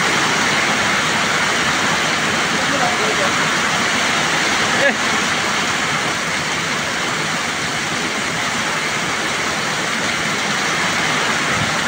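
A record downpour in Rangpur, Bangladesh makes a loud, unbroken rushing roar like a waterfall, steady from start to end, with one brief faint knock partway through.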